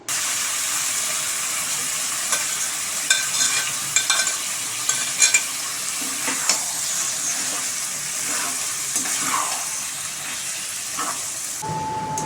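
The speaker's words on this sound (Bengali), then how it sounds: "সেদ্ধ করা গাজরটি এবার ঢেলে দেব।" Boiled carrots are tipped into bubbling sugar syrup in a pan for carrot halwa, giving a steady sizzle and hiss with intermittent scraping and clinking taps of a spoon stirring the mixture.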